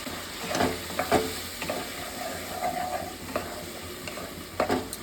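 Spice paste mixed with mustard paste sizzles steadily in a pan, while a spatula stirs and scrapes in a few distinct close strokes over a continuous frying hiss.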